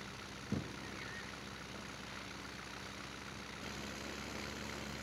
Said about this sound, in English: Oh, this tractor can't go up a hill.